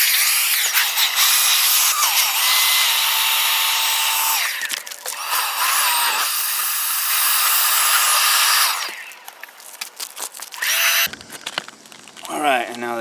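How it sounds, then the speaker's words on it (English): A leaf blower blows out and dries a lanai gutter during a Leaf Filter gutter guard installation, a loud, steady broadband rush for about nine seconds, then faltering into short bursts and handling noise. "you're going to want to blow it out with your blower and dry it"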